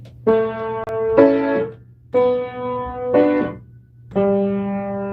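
Sustained piano chords played one after another, each separated by a brief silent gap from late sustain pedalling, giving a choppy, disconnected feel.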